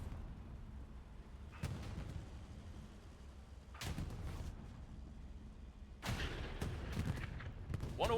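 Tank cannon fire during a multiplayer video game tank battle, with a few heavy booming shots spaced several seconds apart over a continuous low rumble of battlefield noise.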